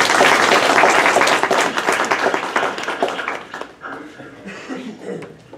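An audience welcomes a guest speaker at a seminar with loud, full applause that gradually thins and fades out over several seconds, with a few scattered claps and a little chuckling and talk near the end.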